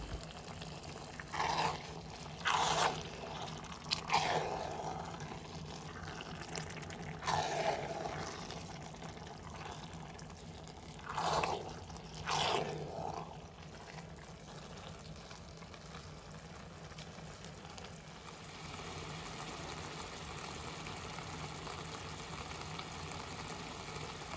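Grated beets stewing in a pan with 9% vinegar for a homemade beet salad or borscht base, a low steady sizzle broken by several short scraping bursts as the mixture is stirred, with no voices.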